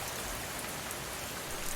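Rain falls in a steady, dense wash of close-up patter on surfaces, loud and constant with no voices.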